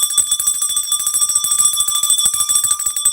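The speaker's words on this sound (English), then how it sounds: "Girl, I'm ringing that bell." A bell rings rapidly and continuously, a bright metallic trill with sustained ringing tones, loud and close, with no voices over it.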